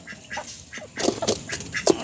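A duck, just caught by a dog and surviving, quacks several times in quick succession, nasal and close, growing louder toward the end.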